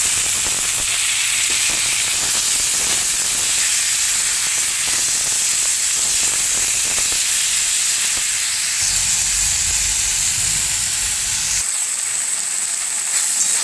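Boiled spinach hitting hot mustard oil in a pan gives a steady, loud sizzling hiss with stirring scrapes, a lower rumble joining near the end as the greens fry, with no talk.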